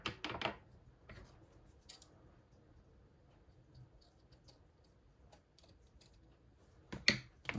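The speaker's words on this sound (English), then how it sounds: "let me cut this a little straighter" Scissors cutting paper embellishments for a junk journal, a few faint, sharp snips and clicks spaced apart over quiet room tone, with no talk.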